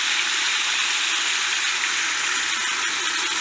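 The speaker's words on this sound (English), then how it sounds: "So I'm going to add just a little water." Water pours steadily into a pot in a continuous rushing stream, close and fairly loud, with no pauses.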